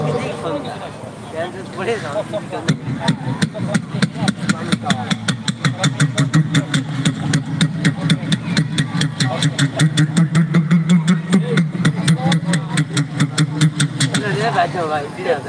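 A voice imitates a boat engine crossing the Atrai river, a steady rapid putt-putt chugging pulse held close and loud for most of the clip, rising out of breathy vocal sounds at the start.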